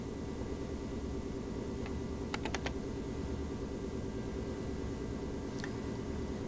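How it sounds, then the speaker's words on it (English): A few quick clicks from a computer keyboard, a short burst of keystrokes and then a single tap, faint against a steady background hum. "Then we would type subject 105."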